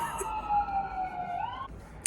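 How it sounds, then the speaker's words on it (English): A siren wails faintly from afar, its pitch sliding slowly downward before fading out over a low background hum. "You do hear sirens a lot around here"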